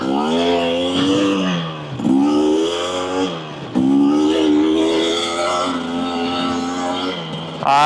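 A 2024 Husqvarna TE250 dirt bike engine revs hard during little wheelies, rising and falling in repeated loud climbing pulls, close and dominating throughout.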